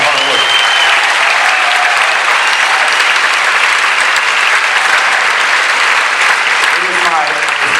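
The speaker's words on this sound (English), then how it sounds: "let's give them one more time a great big round of applause for their hard work" Loud, sustained applause from a school audience honoring eighth graders at a middle school recognition day, dense clapping filling the room steadily from start to finish.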